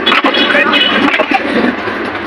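An express train pulling into Gafargaon railway station in Bangladesh: loud, close rumble and clatter of railcars with squealing brake tones as it slows, busy station noise mixed in.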